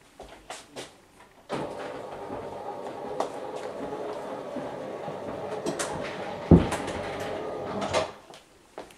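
Loose window shutter banging in the wind outside, heard as a sustained rattling rumble with a few sharp knocks, one loud bang near the end, then quieter clatter.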